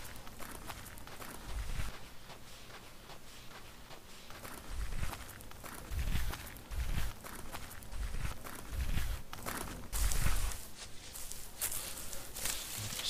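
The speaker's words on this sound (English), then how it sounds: "that dirt sound effect is pretty ordinary, not very good" Soft, gritty video game footsteps crunch on dirt terrain in CopperCube 6 at an uneven walking pace, fairly quiet against a hissy background.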